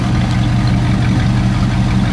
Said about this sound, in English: It does have a nice sounding dual exhaust.